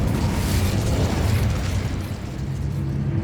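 A fiery Incendio spell in Hogwarts Legacy erupts as a sustained roaring, crackling burst that holds loud for a few seconds before easing slightly, dense and close with a heavy low rumble.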